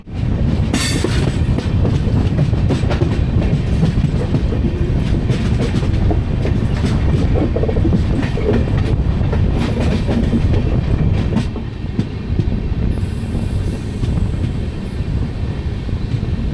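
An Intercity Express train hauled by an EMD diesel locomotive runs at speed, a loud continuous rumble with rhythmic rail clatter, brief wheel squeals and wind buffeting on the microphone, heard from on board with no voices.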